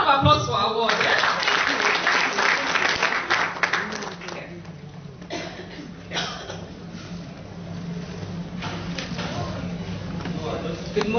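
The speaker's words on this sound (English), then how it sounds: "A round of applause for Award" An audience at a women-in-governance professional gathering applauds, dense clapping strongest at the start and then thinning out into scattered claps and quieter room sound.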